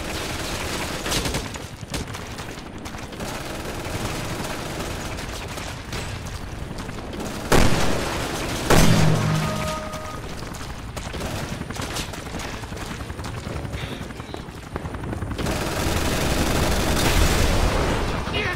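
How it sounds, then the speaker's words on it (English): Video game gunfire in Resident Evil 6, dense bursts of shots and rattling automatic fire running through the whole stretch, with a few heavier booming hits standing out and a louder swell near the end. "what the hell are you shooting at?"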